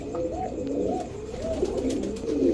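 A pair of Afsan Bagha Silver pigeons coos in repeated low rolling phrases, close and clear over a light background murmur.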